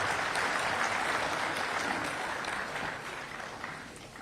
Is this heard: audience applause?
yes